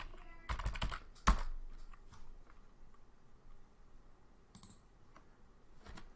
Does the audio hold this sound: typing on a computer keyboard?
yes